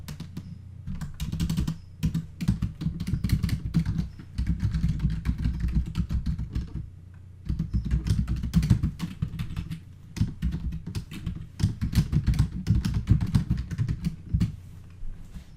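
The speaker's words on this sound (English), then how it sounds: "let's actually type" Fast typing on a computer keyboard in bursts of clicky keystrokes with short pauses between runs, close and fairly quiet, no speech.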